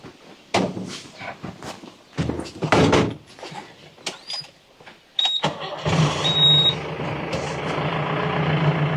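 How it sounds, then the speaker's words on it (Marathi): People climb into a car and shut its doors with several sharp thuds, then an engine rumbles steadily and a short beeping sounds near the end. "सुजाताबाई बसा गाडीत"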